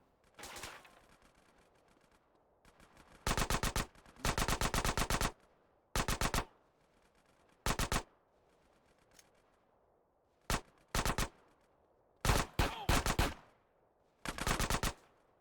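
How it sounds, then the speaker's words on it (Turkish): Bursts of automatic gunfire from the video game GTA San Andreas Definitive Edition, loud clustered volleys separated by brief pauses, with no speech over them. "Oğlum bu Vuzi'nin adamları bana mı sıkıyor?"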